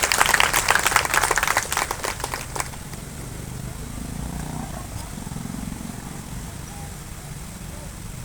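A crowd claps loudly to welcome guests at a fair's closing ceremony. The dense applause lasts about two and a half seconds, then stops abruptly, leaving a low background murmur and room hum.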